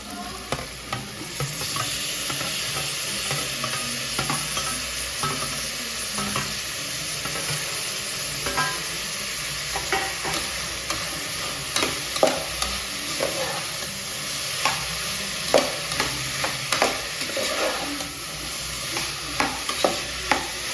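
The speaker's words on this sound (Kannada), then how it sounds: "ಟೊಮೊಟೊ ಬಾಡ್ಸು ತರಕಾರಿಗಳು ಹಾಕ್ತಾ ಇದ್ದೀನಿ" Onions, tomatoes and vegetables stir-fried for a vegetable pulao in a home kitchen: steady loud sizzling throughout, with frequent scraping and clinking of a spatula against the pan, no voices.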